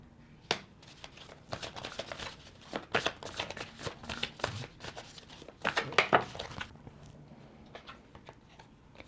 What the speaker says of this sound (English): Okay, so we are going to pull some oracle cards.